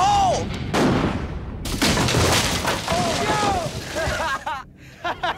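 A cannon fires a cannonball outdoors with a single loud boom, followed by a sustained rumbling blast. People shout and talk excitedly over the sound and through its aftermath.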